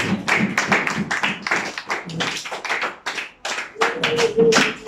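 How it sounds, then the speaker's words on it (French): A church congregation claps through a sermon on prayer, with dense irregular hand claps, some rhythmic, and a few voices rising near the end, fairly close and moderately loud. "Acclamons pour la parole de Dieu"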